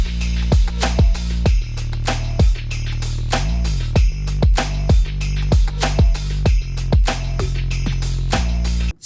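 The full drum track of a Christmas pop song plays alone: a steady, loud beat of booming kick and sharp snare hits, with a short fill partway through and an abrupt stop at the end.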